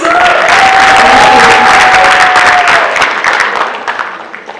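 An audience claps loudly and steadily after a Bharatanatyam dance performance at an arangetram, with crowd noise mixed in. The applause gradually thins out toward the end.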